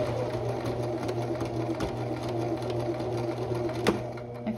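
A sewing machine hums steadily and close while stitching a placket and backstitching, with an even mechanical whir and a few faint clicks.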